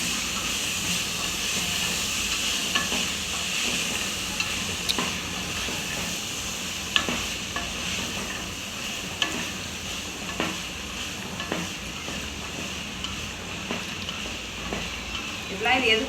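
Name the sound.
stirring vegetable biryani mixture in a pan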